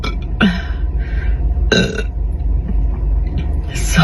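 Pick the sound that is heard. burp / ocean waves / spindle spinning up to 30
burp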